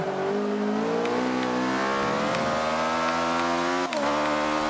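Ariel Atom V8 engine in Forza Motorsport 5, a steady, loud revving drone with shifting harmonic pitch as the car is driven to warm up, a brief gear-change dip near the end.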